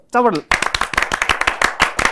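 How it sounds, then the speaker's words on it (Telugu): A small crowd at a web series team interview breaks into loud, dense clapping that runs steadily for about a second and a half, right after a short spoken voice. "గట్టిగా చప్పట్లు."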